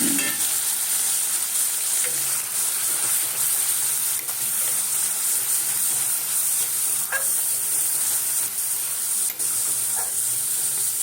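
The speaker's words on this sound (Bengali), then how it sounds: "মশলাটা ভাজা হচ্ছে" Spices sizzling and frying in a pan for a chicken curry, a steady loud hiss with faint stirring scrapes throughout and no voices.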